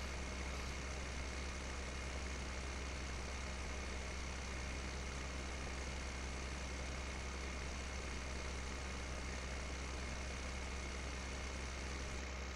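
A tractor engine in Farming Simulator 2015 on PS4 drones at a steady, unchanging pitch, a constant low mechanical hum that runs alone throughout.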